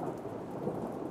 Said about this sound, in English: As the thunder rolled,